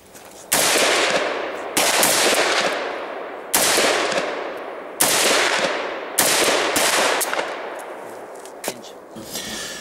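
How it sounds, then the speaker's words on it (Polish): Gunfire at a shooting range: six loud, evenly spaced shots, each with a long reverberant tail that fades before the next, and a faint click near the end. "Panowie, można strzelać."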